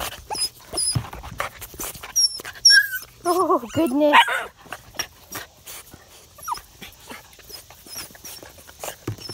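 Husky mix puppies whimpering and yipping in high squeaky bursts amid quick panting breaths, close by, with a person briefly speaking over them.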